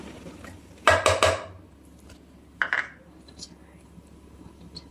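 A spoon stirs crushed carrot, capsicum and ginger-chilli paste together in a bowl for rava dhokla, giving two quick clusters of close scraping and clinking separated by quiet, with faint speech-like sounds in the gaps.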